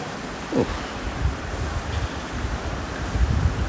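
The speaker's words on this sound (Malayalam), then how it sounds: "സൺസെറ്റ് ആവുന്ന സമയത്തോടെ തിരമാലകൾക്ക് ശക്തി കൂടി തുടങ്ങി. നല്ല രീതിയിൽ തിരമാല അടിച്ചു തുടങ്ങി." Ocean waves and strong wind at Kanyakumari beach at sunset, a broad continuous roar of surf with gusting wind buffeting the microphone and occasional heavier breaking surges.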